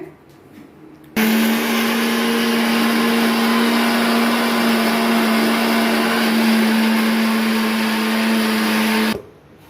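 A mixer grinder whirring loudly while grinding onions and green chillies, starting abruptly, holding a steady high motor whine for about eight seconds, then stopping.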